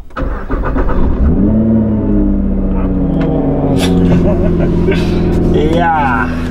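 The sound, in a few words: Nissan GTR Nismo car engine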